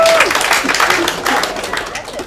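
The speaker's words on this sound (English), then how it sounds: "And a big extra round of applause." Crowd applause at a motorfest open burnout presentation, for a north Queensland burnout competitor; loud scattered clapping alongside an announcer's amplified voice.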